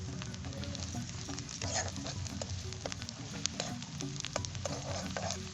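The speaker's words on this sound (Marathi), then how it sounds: "हा कांदा असा भाजत आलेला आहे" Onion with bay leaf fries in oil for chicken, a continuous moderate sizzle with repeated soft stirring clicks and scrapes throughout.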